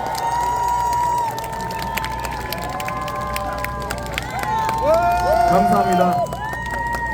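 A large outdoor crowd at a political campaign rally in Hongdae cheers and applauds, with loud shouting voices, whistles and a tonal chant-like sound over a continuous roar of clapping.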